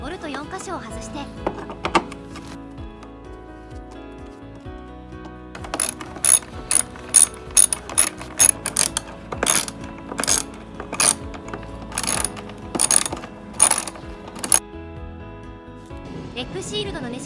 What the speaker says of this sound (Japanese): ステックボードはボルト4箇所を外して。